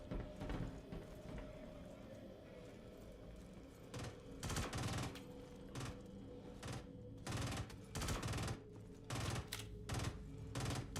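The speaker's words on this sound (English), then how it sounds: "I can hear gunfire" Gunfire in the video game Star Citizen, rapid bursts of automatic shots heard faintly through a busy background of game sound and voice chat.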